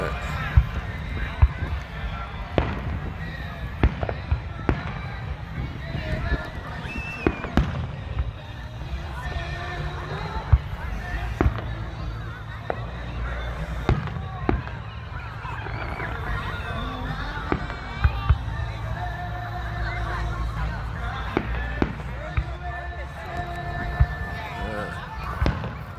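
Fireworks bursting at a July 4th show in Coppersky Park, with repeated sharp booms and crackles at irregular intervals over a steady outdoor crowd murmur and scattered voices.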